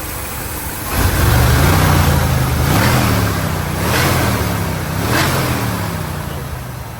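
A 1979 Ford F250 Custom Explorer truck engine idles close by, then revs up and settles back, with a few further throttle blips in a steady rhythm and no talking.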